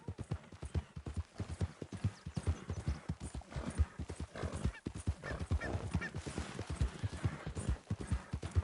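Horse hooves clip-clop steadily on a trail in the Red Dead Redemption 2 video game, with a rider carrying a captive tied on the back; a brief whinny and soft rustle appear amid the rhythmic, moderately close hoofbeats.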